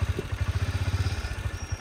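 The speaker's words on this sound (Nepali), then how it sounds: "बाइक स्टार्ट गरेको हो" A Honda CB200X motorcycle with a nearly dead battery cranks weakly, giving a fast, even, low chugging pulse that sounds close but fairly quiet, without catching into a clear idle.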